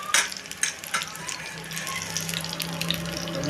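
Chili fritters (pakora) of slit green chilies stuffed with black salt, deep-frying in hot oil beside cauliflower pieces: a steady, dense sizzle with a few clattering stirs near the start and no voices.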